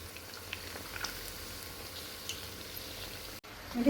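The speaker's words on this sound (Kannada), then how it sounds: "ಇನ್ನಿದು ಟರ್ನ್ ಮಾಡಿ ಹಾಕಿ ಚೆನ್ನಾಗಿ ಗೋಲ್ಡನ್ ಕಲರ್ ಬರುವವರೆಗೂ ಫ್ರೈ ಮಾಡಿ ತೆಗಿಬೇಕು" Rice flour vadas fry in hot oil, a soft steady sizzle and bubbling with faint crackles, fairly quiet and close, ending with a brief handling noise.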